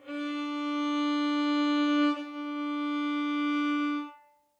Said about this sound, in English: when you draw your bow across the string to make it play